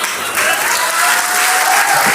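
Studio audience applause bursts out and holds steady, a loud, close wash of clapping with no talk over it.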